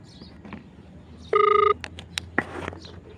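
Phone being dialed to place a call at a fishpond, with a short burst of clear keypad tones followed by a couple of faint beeps, quiet and close, alone without talk.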